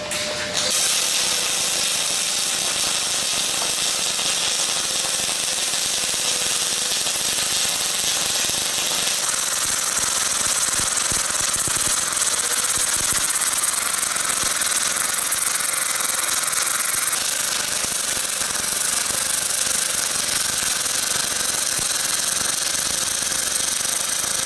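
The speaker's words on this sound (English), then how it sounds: "we are going to run a weld on the edge, a weld on the middle, and another weld on the edge" MIG welding a cap pass on pipe, three beads laid edge, middle and edge at 393 inches a minute and 22.5 volts: a loud, continuous, close crackling buzz that holds steady for the whole stretch with no pauses.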